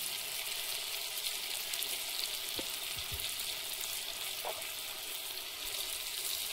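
Taro pieces fry with ground spice paste and coriander powder in a pan, making a continuous bright sizzle with a couple of faint stirring knocks.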